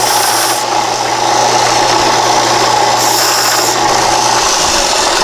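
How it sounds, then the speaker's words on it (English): A little 1-inch Delta belt sander deburring a freshly sawed metal piece in a shop, giving a steady, close whirring grind with a rattly motor hum that runs for the whole stretch without a break. "Little 1-inch Delta sander"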